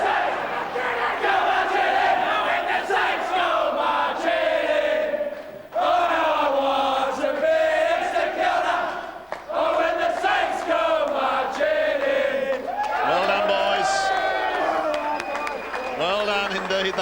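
Large football crowd of just over 20,000 at a Hawthorn v St Kilda AFL match, Round 22 2001, roaring and cheering continuously at full volume, with brief dips and swells of shouting throughout.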